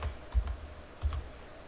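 A few soft keystrokes on a computer keyboard, quiet and close, in two small clusters of taps against a faint background hush.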